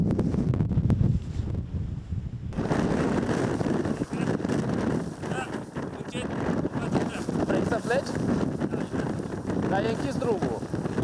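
Strong wind buffets the microphone at the Rânca mountain resort during a winter storm, a loud, continuous roar with gusty surges that fills the whole stretch.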